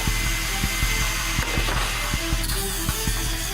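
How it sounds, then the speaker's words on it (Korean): A power grinder smooths the uneven surface left after a window frame is torn out of a camper van build, a loud continuous whirring drone with regular rhythmic knocks running the whole time, close and uninterrupted. "창 구조물을 뜯어낸 뒤 울퉁불퉁한 면을 갈아줍니다"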